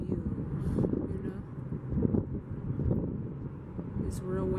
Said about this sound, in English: It's real windy out today